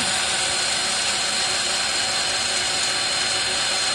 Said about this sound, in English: We just turn this and it will remove some material